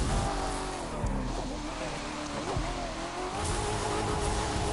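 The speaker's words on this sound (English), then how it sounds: "let's get the show on the road and do the full course to see how it turns out to go for drifting the DeLorean in free mode" DeLorean DMC-12 drifting in free mode in The Crew 2, a steady engine drone with squealing, skidding tires layered over it, sustained and fairly loud throughout with shifting pitch as the car slides.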